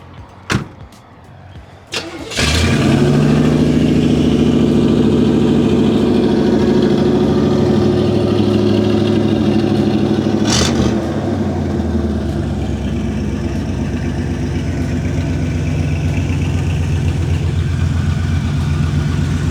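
A 1971 Chevrolet Corvette with 1,600 miles fires up after a few clicks and settles into a loud, steady, rumbling idle up close, with a brief blip of the throttle partway through and no talk.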